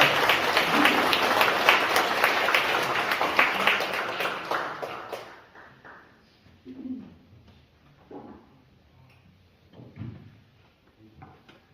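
At a Catholic mass in an education hall in Jeongdong, Seoul, an audience gives a lawyer a warm round of applause for about five seconds before it cuts off. Scattered faint knocks and shuffles follow in a quiet room.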